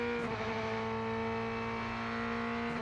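Racing car engine in the sim racing game Rennsport, a steady harsh drone with strong sustained harmonics, loud and continuous with no talking over it.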